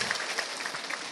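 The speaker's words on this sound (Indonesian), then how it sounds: "Tepuk tangan sekali lagi buat warga Cijati." Audience applause for the villagers of Cijati at an Islamic religious gathering, a steady wash of clapping from a crowd heard alone for a moment, moderately loud and fairly even.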